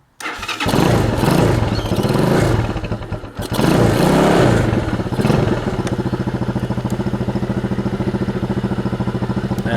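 A motorbike engine, its fuel, ignition, kill switch and choke all on, cranks and catches, revs in two loud bursts, then settles into a steady, close, chugging idle.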